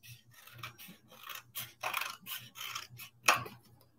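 Scissors cut cardboard for a handmade gaming wheel and phone holder. Short, close rasping snips come in an uneven rhythm, separated by brief pauses, with one sharper crunch near the end and no talking.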